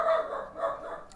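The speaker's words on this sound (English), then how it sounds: "if you can hear me over the sound of my dog barking" A dog barks in a short burst of two or three yelps, moderately close and fairly loud, with no talking over it.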